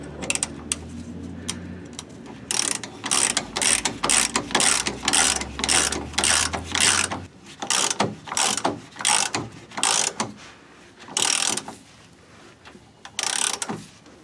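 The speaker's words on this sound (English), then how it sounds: "So I'm going to start with my 1/2 inch drive ratchet and just tighten this down." A 1/2 inch drive ratchet tightens a nut on a Dodge Ram pitman arm, giving close, rapid runs of sharp clicking in repeated strokes with brief gaps between them.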